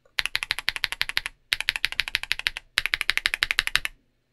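Rapid typing on a keyboard with ACO CS Vintage white linear switches, heard up close as three dense runs of sharp, fairly loud clacks separated by short gaps.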